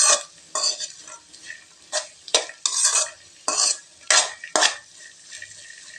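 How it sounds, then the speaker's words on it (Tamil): Chopped broad beans sauté in hot oil while being stirred, giving repeated bursts of close, bright sizzling and scraping that rise and fall in an uneven rhythm. "இப்போ நம்ம அரிஞ்சு வச்ச அவரைக்காவை இதில் சேர்த்துக்கலாங்க. இது எண்ணெயில் 1 நிமிஷத்துக்கு நல்லா வதங்கட்டுங்க."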